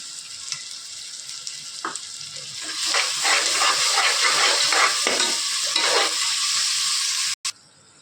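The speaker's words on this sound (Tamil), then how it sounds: "அது கூடவே பச்சை மிளகாய் போட்டுக்கலாம். வதங்கட்டுங்க." Green chillies and ginger garlic paste sauté in a pan for chicken biriyani, a bright continuous hiss and sizzle that swells as the paste goes in, with scraping stirs, then cuts off abruptly near the end.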